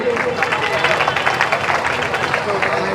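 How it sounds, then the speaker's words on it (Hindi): Audience applause fills a Karva Chauth festival gathering, steady dense clapping mixed with crowd babble throughout, fairly loud and continuous. "एक बार ताली बजा दीजिए इनके लिए"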